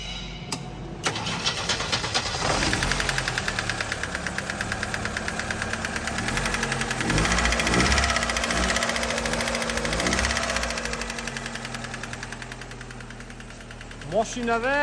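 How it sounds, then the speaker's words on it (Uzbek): A Chevrolet Onix with low compression, just back from a cylinder head repair, cranks and starts, then runs at a steady idle with a fast rhythmic clatter close by. A voice speaks near the end. "Mashinani prosta bitta eshitinglar. Bosing."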